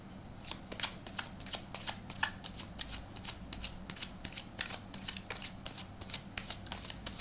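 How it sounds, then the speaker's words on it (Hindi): Tarot cards are shuffled close up in a steady rhythm, with a crisp repeated flutter of cards slipping together for the whole stretch and no voice. "पहले कार्ड शफल करके निकाल लेते हैं आपके लिए"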